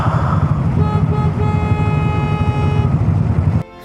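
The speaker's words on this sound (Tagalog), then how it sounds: "naiinip na yung iba, busina ng busina" Car horns sound over steady traffic rumble on the C5 extension road, with a sustained honk running most of the way before cutting off abruptly near the end.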